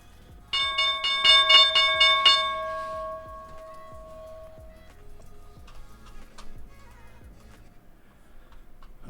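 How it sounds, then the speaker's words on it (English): A bell rings out to mark the stock market opening, a loud run of bright struck tones for about two seconds that decays away, with steady clock-like ticking continuing underneath throughout. "The bell's going to ring."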